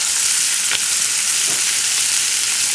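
Carrots and shallots hit a hot pan alongside a braising Cornish hen, giving a loud, steady close-up sizzle with a brief clink or two of movement.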